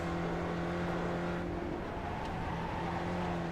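Spec Racer Ford engine droning steadily at Daytona in the iRacing sim, a constant close mechanical tone holding pitch throughout with no speech over it.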